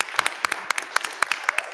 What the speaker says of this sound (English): Can we do just a quick round of applause for our teachers and their staff?